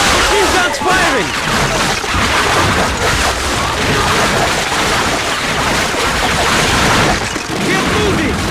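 Sustained battlefield din from Call of Duty: Finest Hour, with dense overlapping machine gun fire, crashes and booms running loud and continuous throughout, likely with shouted voices mixed into the chaos.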